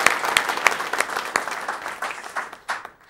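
An audience applauds for about three seconds in a continuous, fairly loud patter of many hands, easing off slightly toward the end.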